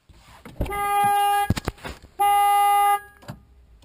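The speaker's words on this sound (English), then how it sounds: "I love car alarms." A 2008 Honda Fit car alarm: two long, loud blaring horn blasts separated by a brief burst of sharp clicks and beeps, with faint background noise after.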